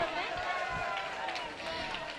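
A dense wash of audience applause fills the hall at an All India Mushaira poetry gathering in Zaidpur, a steady crowd clatter that continues throughout, with voices mixed in.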